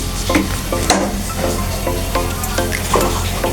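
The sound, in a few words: mustard oil sizzling in a pan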